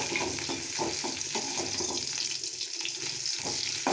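Onions and curry leaves frying in a pan, a continuous bright crackling sizzle with a watery, hissing texture, steady and close throughout with no voices.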